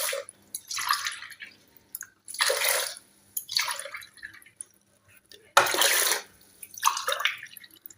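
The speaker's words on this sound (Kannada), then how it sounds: "ಇದರಲ್ಲಿ ನೀರು ಹಾಕ್ತೇನೆ" Water poured in repeated short bursts into rice and moong dal for pongal, splashing and trickling close by in six or so separate pours with quiet pauses between.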